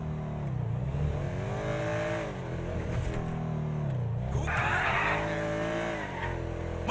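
A large 140-cubic-inch motorcycle engine in the video game GTA 5 revs loudly and continuously, its pitch rising and falling as it accelerates, with a hissing skid or tire noise partway through.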